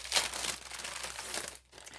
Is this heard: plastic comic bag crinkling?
yes